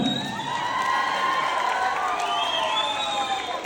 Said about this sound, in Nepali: एकचोटि जोरदार ताली बजाइदिनुहोस् त